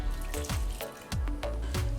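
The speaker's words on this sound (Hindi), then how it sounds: "मैं इसमें डाल रही हूँ थोड़ा सा पानी" Water poured from a vessel into a pot of sprouted mung beans, giving a close, steady splashing pour with a few brief surges and drips, alone without any talk.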